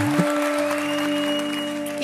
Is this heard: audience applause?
yes